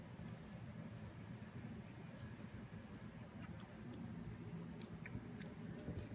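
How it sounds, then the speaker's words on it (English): Biting into and chewing a Lean Cuisine mushroom mezzaluna ravioli topped with pepper and spinach: soft, steady mastication noises close to the mic, quiet and continuous for several seconds. "here's the bite I'm gonna take"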